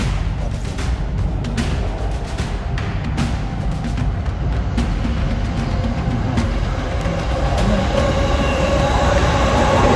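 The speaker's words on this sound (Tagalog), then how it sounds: "ang bilis ng biyahe dito, mabilis, diba? Mabilis yung tren." A train in Tokyo, Japan rumbles along steadily, low heavy roar with rattling clicks and a faint high squeal of wheels, heard from inside, loud and continuous.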